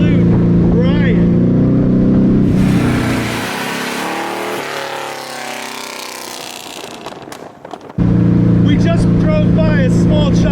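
A vintage car engine, an Aston Martin DB2 or Allard J2, roars past loudly, rising and fading as it goes by, with people talking before and after.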